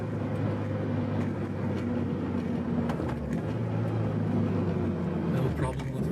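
A Mitsubishi Lancer Evolution GSR accelerating through all five gears of its manual gearbox, its engine a steady loud droning roar heard from inside the car, with someone talking over it.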